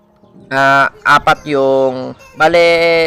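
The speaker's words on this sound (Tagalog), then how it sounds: "dalawa nating ibon mga kalapatids nandyan na kanina pa" Racing pigeons in a loft give loud, close honking calls in several separate bursts, each with a clear harmonic tone, and short gaps between them.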